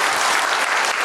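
A crowd at a state senate district candidate forum applauds, a brief burst of dense, steady clapping.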